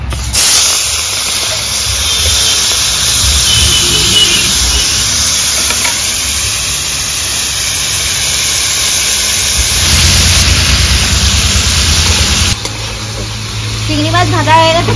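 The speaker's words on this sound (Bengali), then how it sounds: "এবার চিংড়ি মাছগুলো ভেজে নেব।" Prawns frying in hot oil sizzle and hiss loudly and continuously up close, with stirring and a brief voice near the end.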